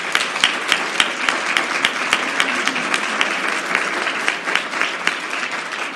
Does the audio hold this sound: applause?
yes